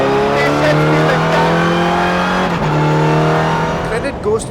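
A Volkswagen Vento TC4-A race car drives hard, its engine note loud and steady with rising and falling pitch as it changes speed, a brief dip and shift near the end, with a voice speaking over it.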